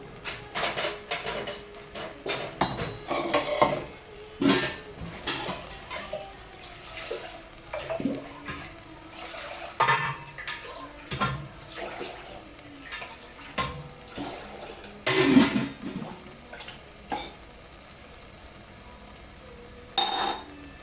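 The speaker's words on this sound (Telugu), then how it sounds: "ఇప్పుడు బాస్మతి రైస్లోకి ఒక గ్లాస్కి 2 గ్లాసులు వాటర్ చొప్పున యాడ్ చేద్దాం." Water is poured into a pot of basmati rice, with splashing and clattering kitchen sounds: scattered knocks and clinks of utensils between brief pours, close and moderately loud.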